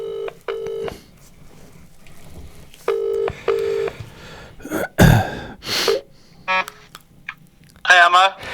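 Telephone dialing tones for a call to a DJ during a live podcast recording, with short beeping tone bursts spread through the clip, between brief noises and a warbling tone near the end.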